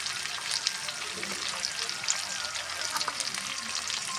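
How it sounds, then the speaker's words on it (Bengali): Spices with asafoetida and salt frying with green chillies for a pickle, a soft, even crackling sizzle throughout with faint stirring, close and fairly quiet, no voices. "মশলাগুলো ভালো করে নেড়ে নিই"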